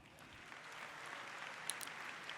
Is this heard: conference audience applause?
yes